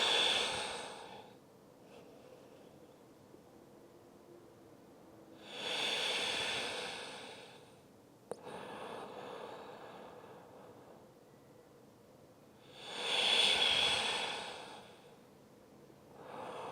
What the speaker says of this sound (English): we're going to take 5 deep breaths here